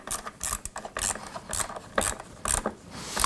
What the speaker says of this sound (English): So now I'll take my screwdriver.